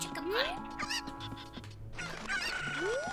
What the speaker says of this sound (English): Why are you throwing the chickens?